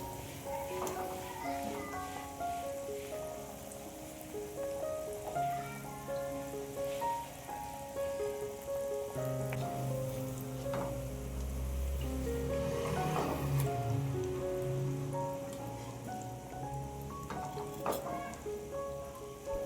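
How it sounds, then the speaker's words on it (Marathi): Potato vada deep-frying in hot oil for vada pav, a steady crackling sizzle under background music, with a few louder bursts midway. "बटाटा वडा तेलामध्ये तळताना थोडंसं सावकाशच पलटी मारायचं, नाहीतर तेल उडण्याची शक्यता असते"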